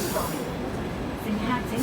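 A Hong Kong Light Rail route 705 train pulls in at Tin Yiu stop near Tin Shui Wai, a steady broadband rumble with faint wheel squeal tones under a nearby voice.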